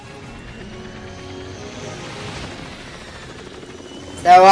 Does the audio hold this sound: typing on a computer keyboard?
no